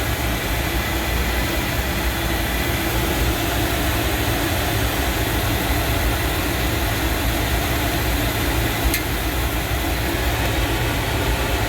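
A large makeup air unit burner fires with a steady, loud broadband roar and low rumble that holds constant throughout, with no voices present.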